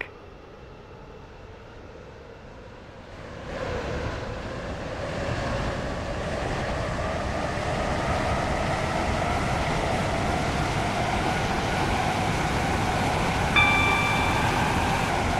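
Class 707 train in the Roblox Stepford County Railway game pulls away with a low rumble and rising motor whine that grows steadily louder, alone without voices.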